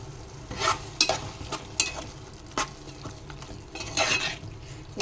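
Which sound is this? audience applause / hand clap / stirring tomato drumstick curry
stirring tomato drumstick curry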